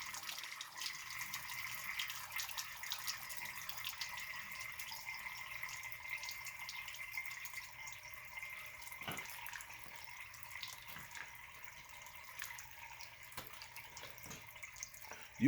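Water trickling and dripping steadily from a boiler heating system, faint and continuous with occasional louder drips, no voices.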